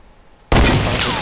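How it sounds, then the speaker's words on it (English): Gunfire in the Fortnite video game bursts in abruptly after a quiet moment, a loud, sustained volley of shots that stays dense and forceful to the end. "There's somebody out here that's shooting him."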